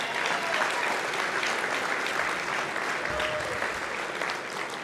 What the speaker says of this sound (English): So let's applaud him by his contributions.